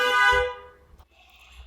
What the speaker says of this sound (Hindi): माफ़ कीजिए थोड़ा गाड़ी का हॉर्न आ गया।